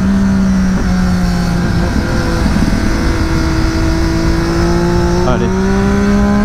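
Triumph Daytona 675 with an Arrow exhaust, its triple-cylinder engine loud and close, holding a droning note before rising in pitch as it accelerates through gears; someone briefly speaks over it.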